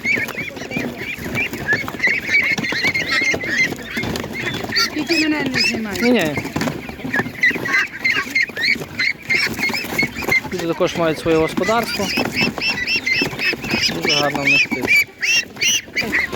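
Ducks and other fowl at an animal market keep quacking and honking throughout, close and loud, while people talk over them.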